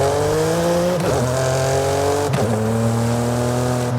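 A car engine in Forza Horizon 5 drones steadily, dropping pitch twice as it shifts, with a rough crackling overrun texture throughout; loud and continuous, no voices.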